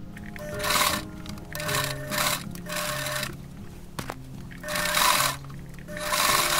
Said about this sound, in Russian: Опускаем лапку и опять даем строчку вперед до следующего угла